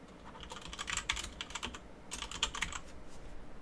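Quick, light keystrokes on a computer keyboard come in two bursts of typing, close and fairly soft, with no talk.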